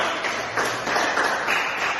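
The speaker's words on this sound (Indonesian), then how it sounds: "Tepuk tangan untuk Stefani dulu" Classroom applause for a student named Stefani, a steady wash of many hands clapping at even loudness for about two seconds, filling the room without any voices on top.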